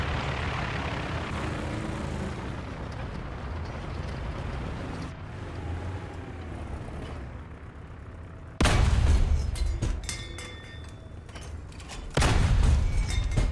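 A tank's main cannon fires in the War Thunder video game: two loud, abrupt booms with a broadband crack that decays over a few seconds, over a steady engine rumble.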